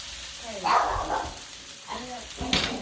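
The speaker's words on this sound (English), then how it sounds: "So we got some garlic going, well, some onions going." Onions and garlic sizzle in a pan beneath someone talking, a steady frying crackle with a couple of louder bursts of sizzle.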